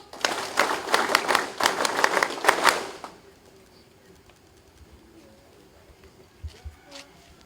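Audience applause at a military opening and closing ceremony in the Philippines, brisk clapping from a crowd for about three seconds that stops abruptly, leaving quiet room tone with faint sounds.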